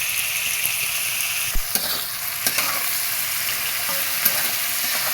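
Continuous sizzling of turmeric and chilli powder frying in a pan, with occasional clinks and scrapes of a stirring utensil.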